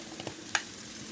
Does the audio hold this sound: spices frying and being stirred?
yes